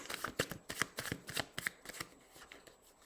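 A deck of oracle cards is shuffled by hand at close range, giving a quick series of crisp flicks, riffles and soft slaps that come in an uneven rhythm for a few seconds.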